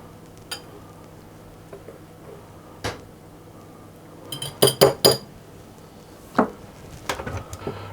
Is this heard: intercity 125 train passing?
no